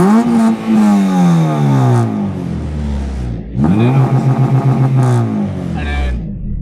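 A Honda Civic EP2 with a K20 engine revs freely in two loud bursts: the pitch sweeps up and falls back, there is a short pause, then a second climb that settles into a fluttering idle.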